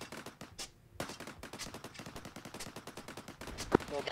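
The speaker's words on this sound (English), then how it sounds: "We've got audible on shots to the southeast." Distant gunfire in a military video game: a rapid burst of automatic shots, faint and far away, rattling steadily for a few seconds while a voice briefly cuts in.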